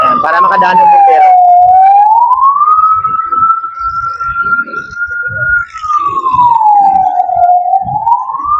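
A loud wailing fire truck siren in Manila sweeps slowly up and down in pitch, close by, with muffled voices and traffic noise underneath.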